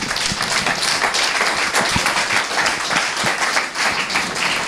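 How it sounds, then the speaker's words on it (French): A church congregation claps for the Lord Jesus in a loud, close burst of applause, with sharp individual claps standing out, sustained throughout without speech. "Applaudissons le Seigneur Jésus."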